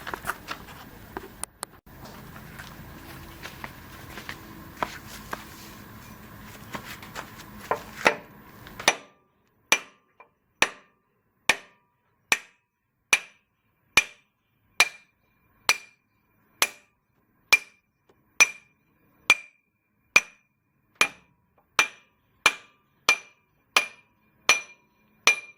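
A 6-pound sledgehammer knocks a pin out of a backhoe cylinder. After a stretch of low background noise come about twenty sharp, clear metallic blows at a steady, even rhythm, each ringing briefly, with no talk.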